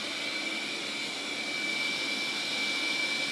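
A Neabot Q11 robot vacuum runs in carpet boost mode, giving a steady, loud high-pitched whir with an even motor hum, continuous and unbroken throughout.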